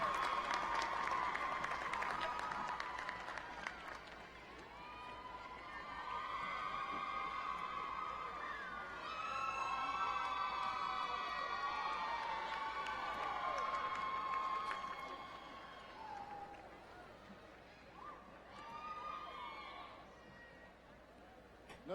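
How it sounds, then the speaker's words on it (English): Audience applause with some cheering for doctoral recipients in nursing practice at a university commencement ceremony, a sustained crowd sound that swells and fades over about twenty seconds, moderately loud with a large hall's diffuse ambience. "Another round of applause for all of our doctoral recipients."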